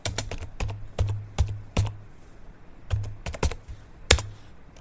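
HP laptop keyboard typed on up close, with bursts of crisp key clicks in an uneven rhythm and short pauses between groups, loud and alone.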